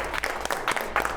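A round of applause breaks out among a group of participants in a takt-time simulation exercise, a short, dense burst of clapping that holds steady for about a second.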